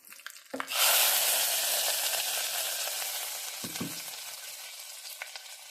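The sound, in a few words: tempering poured into lentils sizzling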